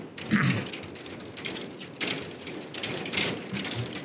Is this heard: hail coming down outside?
yes